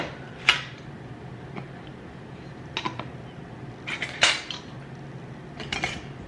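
Metal canning jar rings clink and rattle as they are handled and inspected, in a few sharp, scattered taps with quiet gaps between them, close by and with no talking.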